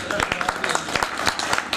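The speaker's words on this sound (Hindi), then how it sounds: "प्रिंसिपल साहब का नाम जाते ताली बजा देते हैं" An audience claps at a devotional Ram storytelling program, a dense, continuous patter of many hands close by, with a voice speaking over it.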